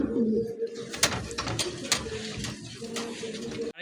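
A pair of black and white pigeons coo softly and repeatedly at close range, with a few sharp clicks and rustles between the calls.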